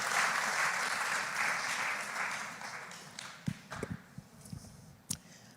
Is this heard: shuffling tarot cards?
no